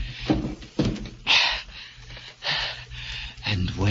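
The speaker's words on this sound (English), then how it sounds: "So I piled furniture against the door" Furniture is dragged, knocked and shoved against a door as an old radio-drama sound effect, heard as a series of close wooden scrapes and thuds in uneven bursts with breathy sounds between them.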